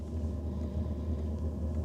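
A BougeRV 5 kW diesel heater runs in freezing temperatures with a steady, low engine-like rumble and hum that holds even throughout, fairly close, and no talking over it.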